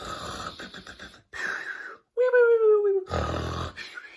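A read-aloud animal story carries a voice imitating snoring animals, breathy rasping snores, then a drawn-out whistling wheeze, with pauses between them.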